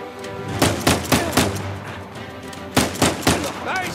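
Gunfire in Uncharted: A Thief's End, a fast run of sharp close shots in two bursts separated by a short pause, over a low ambient background.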